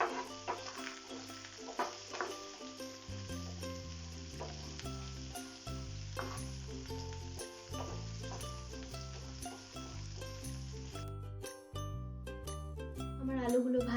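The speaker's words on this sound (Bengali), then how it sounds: "এবার এগুলোকে আমরা ভালো করে ভেজে নেব।" Potatoes fry in oil in a pan, a soft sizzle with occasional stirring that runs low beneath steady background music.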